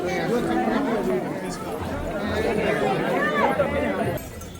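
A dense crowd murmurs and chatters at a busy train station at eleven at night as people wait for a train, a continuous babble of many overlapping voices close around.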